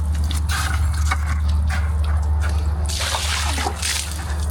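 Water from a hose washing over freshly stripped concrete, a steady broadband rush and trickle with splashy bursts toward the end, continuous and fairly loud with a low background rumble.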